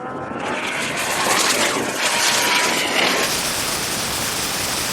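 Lamborghini Huracan tuned to 1800 hp and a Rimac Nevera in a rolling drag race from 50 mph, giving a loud, steady roar with rushing wind noise that swells through the middle and holds to the end, with no talk.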